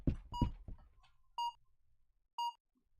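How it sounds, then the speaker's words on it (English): Two clean electronic beeps sound in Clothing Store Simulator, each short and clear, spaced about a second apart, following a few faint muffled knocks and thumps. "I still hear beeps"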